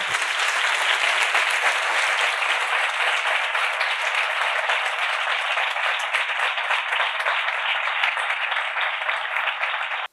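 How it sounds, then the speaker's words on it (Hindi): A church congregation at a sermon breaks into loud, continuous applause, a dense and even patter of many hands that holds steady for about ten seconds with no talking over it. "यीशु के कलाम के लिए जोरदार ताली।"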